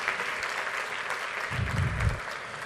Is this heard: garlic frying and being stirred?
no